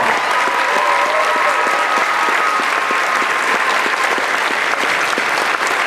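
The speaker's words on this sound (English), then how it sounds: "offer her a beautiful bouquet of flowers and a big warm round of applause from the audience to thank Stephanie Brown." Strong, sustained audience applause at a farewell concert's recognition and awards segment, many hands clapping close and loud in a steady unbroken roar, with faint rhythmic clapping emerging within it.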